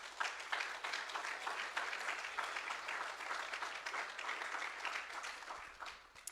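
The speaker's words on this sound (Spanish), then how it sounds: "Dele un aplauso al Señor" Sustained applause from a church congregation during a Spanish-language worship service, steady and fairly loud throughout, dense overlapping hand claps filling the room with no talk over it.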